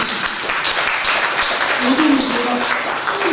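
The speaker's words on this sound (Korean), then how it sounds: "우리 그분 식구 위해서 박수 한번 치고" Church congregation clapping in applause during a worship service, a dense continuous patter with a voice speaking faintly underneath.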